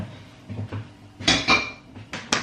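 Pots and pans clatter in a home kitchen while chicken and rice are cooked, with a few soft knocks followed by sharper metallic clanks and scrapes near the end.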